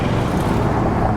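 A truck passes on the road near a commuter riding an e-bike on a windy day, a steady broadband roar of engine and tyres holding loud and continuous, mixed with wind rush.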